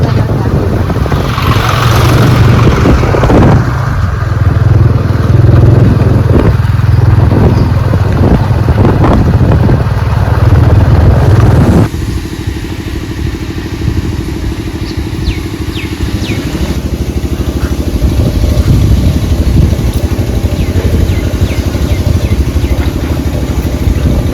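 A motorbike engine drones steadily near Thol Lake with heavy wind buffeting the microphone, the rumble shifting in tone partway through as the ride continues.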